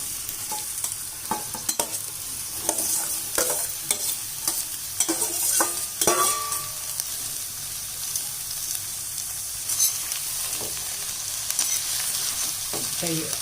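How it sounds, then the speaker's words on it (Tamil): One kilogram of roughly chopped onions frying in sesame oil for onion thokku, a continuous close sizzle broken by repeated scraping and clanking of a spoon stirring against the pan, with no talking. "இப்போ இந்த எண்ணெயில் நம்ம ரஃப்பாக கட் பண்ணி வச்சுருக்கோம்ல 1 கிலோ வெங்காயம், அதை நம்ம அதில் சேர்த்துக்குவோம்."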